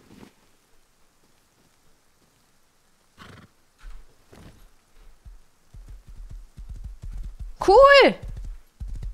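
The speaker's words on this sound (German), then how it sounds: "Ein Pferd." A horse in the video game Rust clops along with a steady rhythm of low hoofbeats that builds over the second half, topped by a loud, close whinny near the end, with a brief voice earlier.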